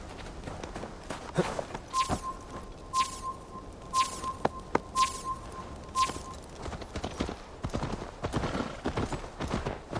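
Horse hooves clip-clop in the video game Assassin's Creed Valhalla, a steady walking gait of repeated hoof strikes at close range, alone with no talk, while a sustained tone rings through the middle of the passage.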